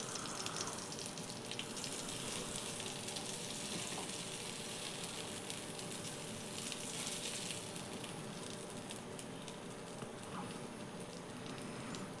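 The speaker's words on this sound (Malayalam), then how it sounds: "ഇത് കോരിയിട്ട് നമുക്ക് ബാക്കിയും കൂടെ വറക്കാനുള്ളതും കൂടെ നമുക്ക് ഇട്ട് വറുത്തെടുക്കാം" Chicken pieces for a Kerala-style chicken curry fry in oil with a continuous, moderately quiet bubbling sizzle that holds steady for the whole stretch, with no talking over it.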